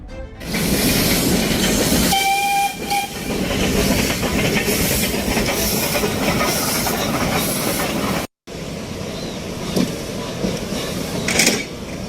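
The Nilgiri mountain toy train on the Ooty metre-gauge line runs steadily, a continuous loud rumble with rhythmic wheel clatter and hiss. A brief whistle-like tone sounds early, and there is a momentary cut near the end.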